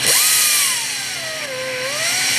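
A power tool grinds a chamfer around the head of a broken exhaust manifold stud, a loud continuous high whine whose pitch sags mid-cut and then climbs again, running alone for the whole stretch.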